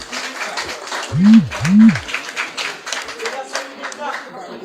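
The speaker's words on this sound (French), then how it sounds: "avec vos applaudissements" Audience applause at the installation ceremony of Ariel Henry's new cabinet, following the naming of a new foreign affairs minister; scattered clapping runs steadily for several seconds with no speech, broken by two brief low tonal swoops partway through.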